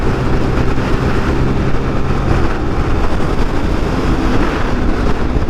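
A Zontes GK350 motorcycle running at high speed on the road, its engine drone buried under a loud, steady roar of wind buffeting the microphone throughout.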